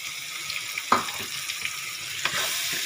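Rohu fish pieces fry in a pan with mustard paste, a continuous close sizzle broken by a few sharp clicks and spatters, with no voices.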